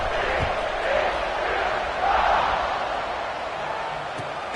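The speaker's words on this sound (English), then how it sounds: "this crowd is buzzing after that last score" A large football stadium crowd at a TCU game keeps up a steady, dense roar and murmur after a score, swelling slightly midway, heard from within the stands.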